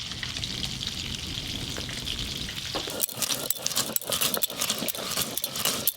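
Fish sizzles in a pan outdoors, a constant frying hiss for the first half, then sharp scraping or clattering knocks of a spatula against the pan join in. No one speaks.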